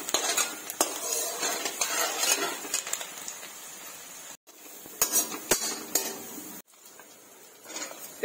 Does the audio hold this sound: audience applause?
no